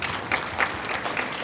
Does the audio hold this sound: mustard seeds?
no